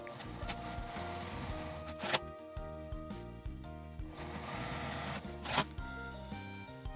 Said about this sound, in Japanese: 返し口を開けて1センチの縫い代で縫います。